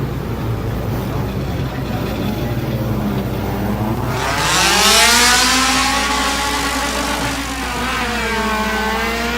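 Mini stock race cars on an oval track at Cornwall under a yellow caution. A steady engine drone swells as one car passes close around the middle, its pitch rising and falling, then settles back to a distant hum.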